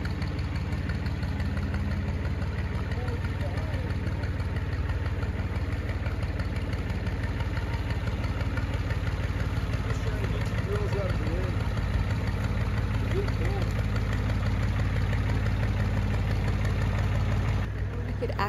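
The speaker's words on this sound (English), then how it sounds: "So Ryder took the tractor over to the pile of T-posts." A tractor engine idles with a steady, low rumbling drone that holds nearly constant throughout, close by and fairly loud.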